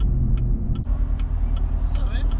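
Dodge Challenger Scat Pack with JBA longtube headers and straight-pipe exhaust accelerating, a loud, close, deep rumbling engine roar that holds steady and rises slightly, with voices talking over it.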